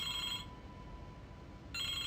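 A telephone rings in the Broken Sword video game, two bright bell-like bursts separated by a pause over low background ambience.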